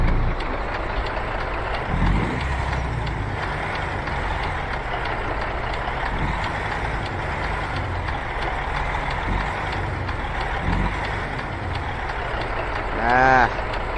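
Truck and traffic noise in American Truck Simulator with the cab windows rolled down, a continuous low engine rumble and road roar, with a faint horn-like tone near the end.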